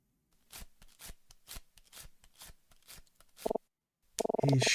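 A game character shuffles a deck of cards in the Detective Instinct video game: a rapid series of crisp riffle and snap bursts, followed by a short pause and a louder buzzing tone.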